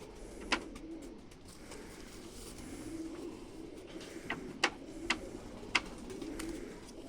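A domestic pigeon gives soft, low cooing over a steady background hum, with a few sharp clicks or taps scattered through; no voices.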